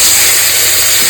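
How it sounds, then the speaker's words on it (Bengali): Koi fish fry in hot mustard oil with a loud, steady close-up hiss of sizzling that runs unbroken for about a second. "এরকম আমি সব কটা মাছ ভেজে নেব"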